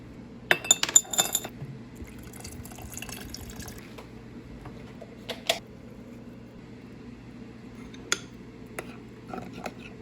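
Coconut water is poured into a glass jar over frozen fruit, with a few sharp glass clinks early on, then quiet trickling broken by occasional clinks and drips. The sounds are close and soft.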